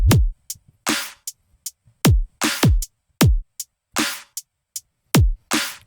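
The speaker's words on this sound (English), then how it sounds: "in the drop section, the drums are a little bit different. They get a little bit more aggressive" Aggressive electronic drums from the drop of a song: booming kicks with pitch-dropping tails alternate with bright, noisy snare and clap hits and short ticks, in a punchy, syncopated pattern with no voices.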